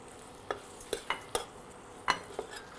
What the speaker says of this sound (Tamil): நல்ல ஒரு ஸ்டர் கொடுங்க